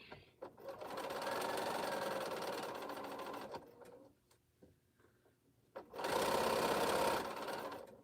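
Sewing machine stitching quilt pieces runs steadily for several seconds, pauses briefly amid small clicks and handling sounds, then resumes with another loud burst of stitching close by.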